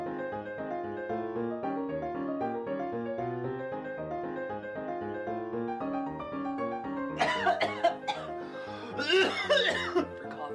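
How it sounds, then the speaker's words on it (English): A man coughs in a short harsh fit of several rough bursts, close and loud, over a steady background of sustained music tones. "He would say, after a good solid coughing fit,"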